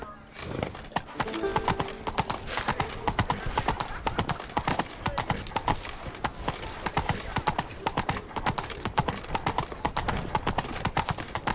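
Rapid, rhythmic clip-clop of Geralt's horse Roach galloping in The Witcher 3, steady close hoofbeats running the whole time, with a brief whinny near the start.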